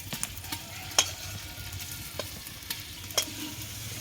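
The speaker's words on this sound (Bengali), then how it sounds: "হাঁড়িটা গরম হয়ে গেছে এবার তেল মশলাটা দিয়ে দিলাম" Oil and spice paste fry in a hot pot for mutton curry, a soft steady sizzle with a few sharp clicks and taps of a spoon against the pot, fairly quiet, no voices.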